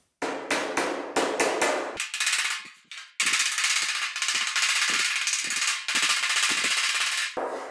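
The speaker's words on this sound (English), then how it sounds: "you don't want to peen or have that hammer hit this dolly too hard when you're bending this over" Hammer and dolly bend over a sheet-metal body panel on a 1940 Ford Coupe–inspired build, sharp metallic blows in rapid, fairly even bursts, loud and close with brief pauses between runs.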